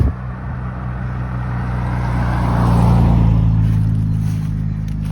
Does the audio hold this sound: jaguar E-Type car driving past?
yes